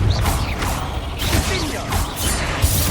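A Confringo blasting spell is cast in the Hogwarts Legacy game, with crackling, whooshing magical bursts and impact crashes over rumbling combat noise, repeating several times in quick succession.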